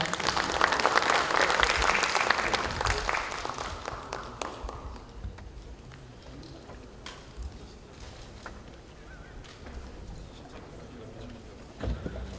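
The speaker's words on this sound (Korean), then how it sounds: "큰 박수로 맞아주십시오." Applause from a party caucus meeting of lawmakers rises loudly at first, then thins into scattered claps and faint room noise before a few sharp claps near the end.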